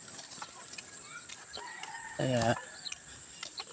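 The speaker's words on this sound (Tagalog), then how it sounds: "May manok. Iwasan natin manok, baka biglang tumalon sa sa ilog." A chicken by a riverside gives a short, clear cluck-like call nearby over a quiet outdoor background with a high steady hum and a brief spoken word.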